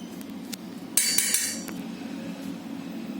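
Metal spoon clinking and scraping in a bowl while mixing grated raw potato with peanut powder and salt, a few sharp taps around one second then softer stirring, close and fairly quiet.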